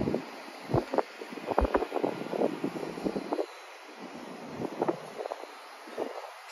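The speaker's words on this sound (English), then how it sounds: "It's really windy out here." Gusty wind buffeting a covered microphone outdoors beside a mobile home, with irregular low rumbling bursts and a steady hiss throughout.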